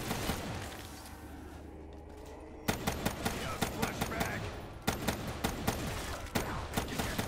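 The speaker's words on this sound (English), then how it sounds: "Those fireworks are doing work, man." Rapid bursts of explosions and gunfire-like blasts in a Call of Duty Zombies match, loud and dense after a quieter opening rumble, with repeated sharp hits continuing to the end.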